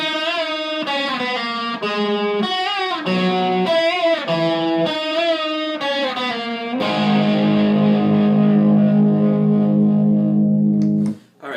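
A guitar solo on a distorted electric guitar with a chorus effect: a string of bent, sliding lead notes, then a long sustained, wavering chord ringing out before cutting off.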